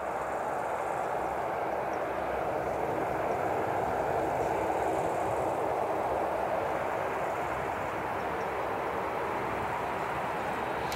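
Royal Australian Air Force Boeing C-17 transport landing, a steady broad roar of jet engines held at constant loudness throughout, distant and unbroken with no voices over it.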